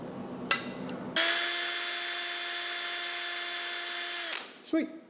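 A power drill whirs steadily for a few seconds at close range drilling a small center-punched hole for a 4L80E transmission rollerizing job, its high pitch holding level before it winds down, preceded by a brief sharp tap.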